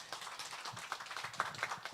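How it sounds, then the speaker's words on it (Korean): Scattered clapping from a small congregation at a Sunday church service, a brief patter of hands with uneven rhythm and no voices over it. "우리 박수 한번 했으면 좋겠어요"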